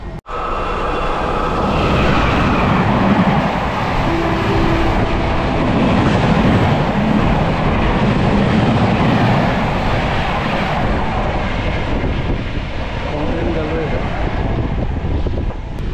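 The Rupasi Bangla Express rushes past alongside a moving Santragachi–Jhargram MEMU train, a loud, continuous roar of wheels and rushing air heard from inside the MEMU, with a voice speaking over it.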